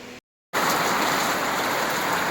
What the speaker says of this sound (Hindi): अभी बारिश होने लगी है, 4 बज गए हैं शाम के दोस्तों। एकदम अचानक से तेज़ बारिश आने लगी।